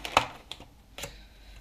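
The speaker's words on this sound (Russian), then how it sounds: "Открываем нашу сушницу." A plastic sushi container being opened, giving a few quiet crisp clicks and snaps of the lid spaced over a moment, close and faint with no voices.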